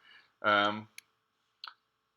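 A single crisp computer mouse click in design software, sounding right after a short spoken fragment, with another faint tick following.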